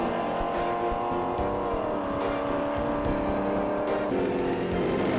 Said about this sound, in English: A super stocker doing an exhibition run for people.